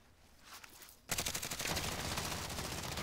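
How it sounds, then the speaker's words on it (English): Automatic gunfire in Call of Duty Warzone, a sudden burst of rapid, loud shots that begins after a quieter second and then continues as dense, sustained fire to the end. "I'm getting shot at"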